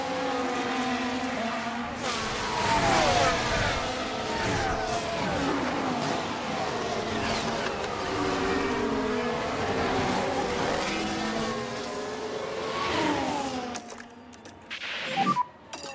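Formula One cars from the F1 Manager 2013 game at the Bahrain circuit roar past one after another, engine notes rising and falling as they pass. The sound is steady and loud, then drops away briefly near the end.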